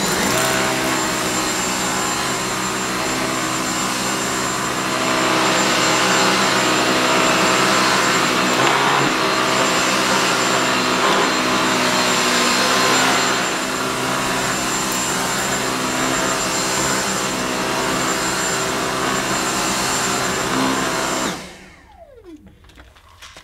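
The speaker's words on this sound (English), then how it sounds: "let's see how the regular carpet nozzle does at removing it." A Dyson V6 Fluffy cordless vacuum cleaner runs on carpet, picking up pet hair with the regular carpet nozzle: a loud, steady motor whine that holds for about twenty seconds, then cuts off abruptly as the motor spins down.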